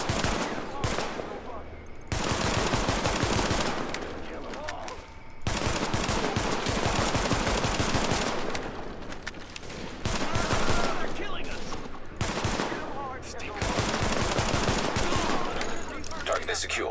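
Pistol fire in the video game The Division comes in rapid bursts of close, loud shots, separated by short pauses, over constant game noise.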